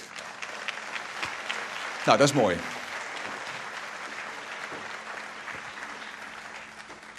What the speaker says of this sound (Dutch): dat je applaus krijgt